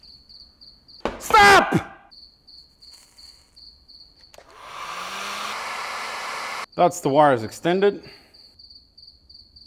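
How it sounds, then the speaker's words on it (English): A cricket chirps indoors with a steady, faint, high-pitched trill that runs through most of the clip. Two bursts of speech and a loud blowing hiss from a hair-dryer-like tool play over it during interior work on a BMW Alpina B7. "The cricket is driving me nuts."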